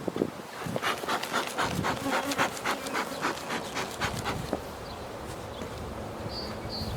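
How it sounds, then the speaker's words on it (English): Honeybees in a freshly opened hive during a May colony split, a dense, steady buzzing hum running the whole time with a few sharper insect passes close by. "Look at all the bees,"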